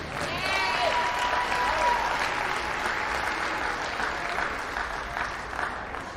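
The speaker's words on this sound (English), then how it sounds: "Let's give everyone a round of applause." An audience applauds at a college tournament event between Wallace Hanceville and Shelton State, with sustained, fairly even clapping in a large hall and some voices and whoops mixed in before it thins out.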